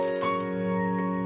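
Sustained chord played with the grand piano voice on a Yamaha PSR keyboard, its tones ringing steadily and softly from start to finish with no other sounds.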